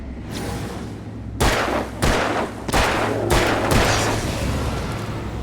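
Four loud, booming gunshots from the Alan Wake video game, spaced about a second apart over a steady low rumble of game ambience.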